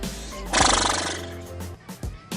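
A voice imitates a horse neighing: a single loud, breathy whinny that quavers for about a second, then fades into quieter breaths.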